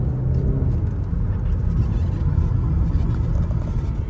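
An Audi's engine hums low and steady, building gently as the car accelerates, with a continuous rumble throughout and no voices.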